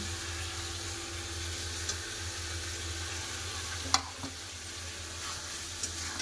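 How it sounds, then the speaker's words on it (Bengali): Chopped tomatoes go into a hot pan of ginger-garlic masala for a meat and potato curry, giving a steady, close frying sizzle that runs throughout with a couple of faint clinks. "এবার দিয়ে দেবো কেটে রাখা টমেটো"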